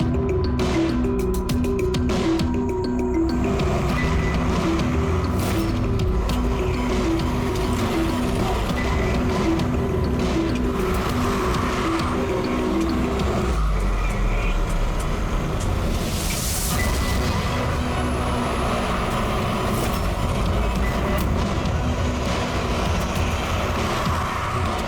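A car pulling away, its engine running as a low steady drone under a dense continuous noise bed, with some rhythmic mechanical ticking early on and a sharp shift partway through.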